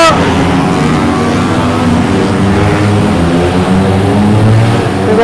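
A loud racing motorcycle engine roars steadily at close range, a dense continuous drone with no pauses.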